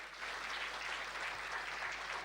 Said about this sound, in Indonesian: berikan tepuk tangan buat Allah kita